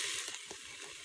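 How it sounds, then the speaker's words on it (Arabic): Meat browning with tomato paste in a hot pot for a harees soup: a brief, soft, continuous hiss and crackle of sizzling, close up and alone. "هضيف الآن اللحم واحمسه شوية"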